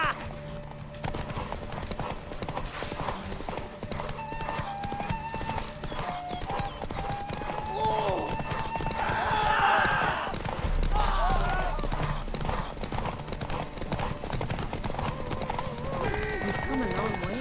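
Roach, the horse from The Witcher 3, gallops in a race with fast, continuous hoofbeats under game music and ambience, while characters talk over the riding.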